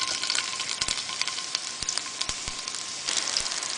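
Meatless ground sausage substitute fries in olive oil in a pan, giving a continuous close, dense sizzle with occasional sharper pops and crackles.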